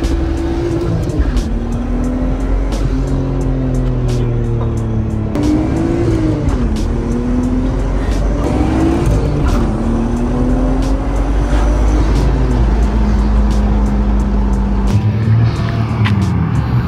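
A Nissan Skyline R34 driving, heard from inside as a loud, steady engine drone with the pitch rising and falling through repeated gear changes, plus road rumble, continuous throughout.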